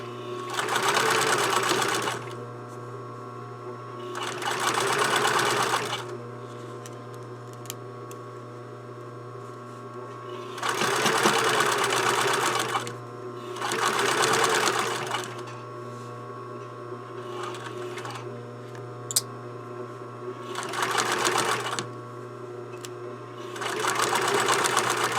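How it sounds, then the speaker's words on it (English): Sewing machine backstitching a blouse collar seam, whirring in repeated short runs of a few seconds separated by quieter pauses, close up over a steady low motor hum. "So now I'm back stitching off the end."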